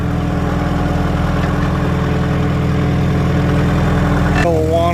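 An antique tractor engine runs steadily in second gear while brush hogging a field, a low, throbbing mechanical drone heard close and loud throughout, with a brief shift in tone near the end.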